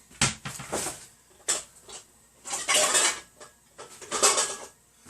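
Metal clatter of a lid being clamped onto a cooking pot of salted water, several loud clanks and scrapes in bursts with short gaps, close up and with no speech.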